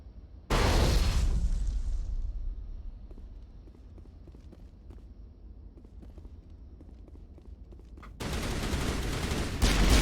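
A grenade blast in the game Mass Effect, a loud broadband burst that decays over a couple of seconds, followed by scattered distant pops and a second heavy burst of sustained gunfire near the end.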